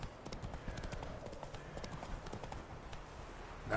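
Galloping horse hooves in The Witcher 3: Wild Hunt video game, a steady rapid clip-clop rhythm running throughout over a low rumbling game ambience, with no talking.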